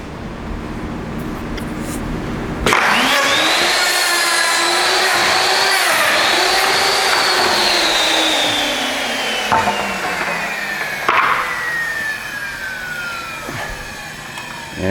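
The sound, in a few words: KVAL 950-3 auto hinge jamb router routing door jamb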